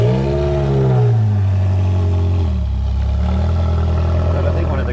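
A Ferrari 360 Modena engine revs up and settles into a steady, close, loud note, with a falling pitch sweep early on and someone speaking over it.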